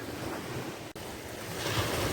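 Sea surf washing steadily onto a stormy Black Sea shore between Alaplı and Ereğli, a dense continuous roar of breaking water mixed with strong wind buffeting the microphone, with no voices.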